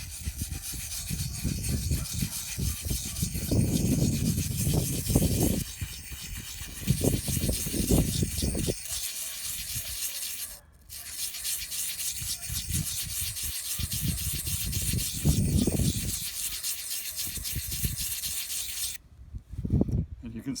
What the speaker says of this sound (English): we start small circular motions with this. Sharpen this one edge of this tool.